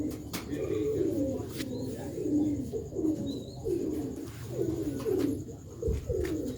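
Sialkoti black-faced pigeons cooing close by, repeated low rolling coos in a steady rhythm, with a few sharper clicks and faint background noise.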